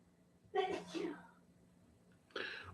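A person sneezes sharply and fairly close in a quiet room, then a second shorter sneeze-like burst follows a couple of seconds later.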